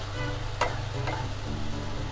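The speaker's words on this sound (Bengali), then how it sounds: "এখন আমি মশলাটাকে সম্পূর্ণভাবে কষাবো।" Spice paste for mutton kosha sizzles in a pan over medium heat, a steady close crackle with a couple of quick stirring scrapes.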